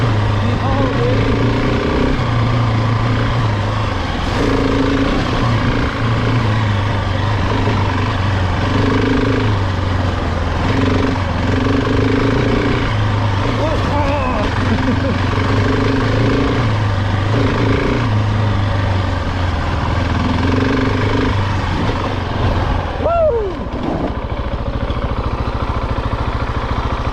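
A GasGas ES700 enduro motorcycle, based on the KTM 690 Enduro, rides a dirt trail with its single-cylinder engine droning loud and steady throughout, pitch rising and falling in repeated surges as the throttle opens and closes.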